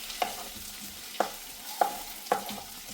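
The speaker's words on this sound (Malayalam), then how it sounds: "ഇനി നന്നായി ഒന്ന് ഇളക്കി കൊടുക്കുകയാണ്." Potato pieces are stirred in a pan for Kerala-style chicken liver curry: four sharp scraping strokes of a spoon at an uneven pace over a soft, continuous frying sizzle, close and with no voices.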